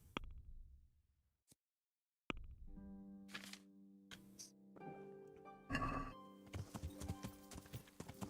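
Horse hooves clip-clopping while riding in Kingdom Come: Deliverance, starting after a short silence and thudding in an uneven gait under game music and a brief whinny, moderately close and clear.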